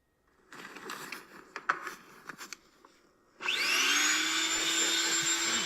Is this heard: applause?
no